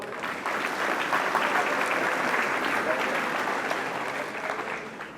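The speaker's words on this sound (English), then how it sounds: "And I think that deserves a round of applause." An audience at a motivational talk gives a round of applause, steady dense clapping throughout at even loudness, easing slightly toward the end.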